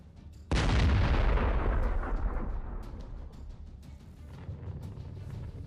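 A powerful explosion in combat bursts suddenly with a deep, loud boom, then rolls on in a long, slowly fading rumble with scattered crackles, and no talk over it.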